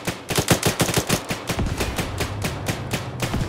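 Gunfire in the Arma video game comes as rapid, punchy bursts of shots close by, first sharply separated and then blurring into denser fire with a low rumble under it.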